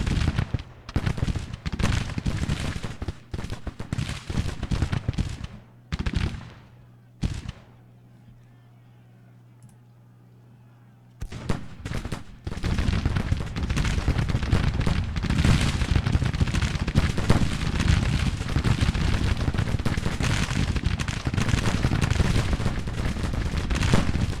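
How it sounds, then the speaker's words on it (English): Musket and artillery fire from a Battle of Olustee, 1864 fight in Grand Tactician: The Civil War roars in dense, continuous crackling volleys, briefly dropping to a quiet lull before erupting again even heavier. "Taking some heavy fire there, these guys."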